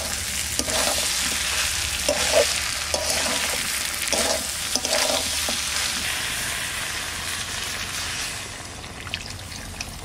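Country chicken and tomato being stirred in a frying pan, a steady sizzle broken by repeated scraping strokes of a spatula, close and fairly loud, easing off near the end.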